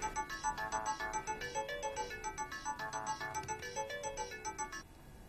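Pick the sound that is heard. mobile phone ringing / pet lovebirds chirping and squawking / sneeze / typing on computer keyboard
mobile phone ringing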